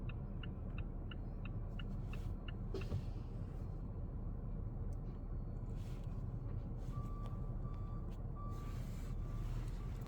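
A truck's reversing alarm beeps in an evenly spaced series while it parks, heard at a moderate distance over the low, steady rumble of an idling vehicle engine nearby.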